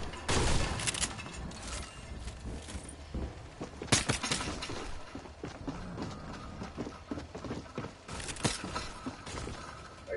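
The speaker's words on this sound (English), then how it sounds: "They're shooting at me." Scattered gunfire in a Fortnite match, with loud clustered shots near the start and again around the middle and end, heard over a busy bed of game noise and footsteps.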